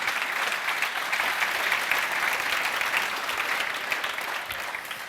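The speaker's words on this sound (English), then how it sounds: "Big warm applause." A conference audience at a programming talk gives a steady round of applause, a dense wash of clapping held at even strength for several seconds with no voices.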